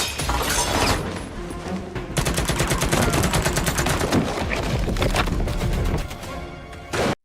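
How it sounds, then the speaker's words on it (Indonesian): Rapid bursts of gunfire in an action movie shootout, loud sustained volleys with sharp shattering impacts, dense and continuous across the scene. "Lalu terjadilah baku tembak yang cukup membrutalkan."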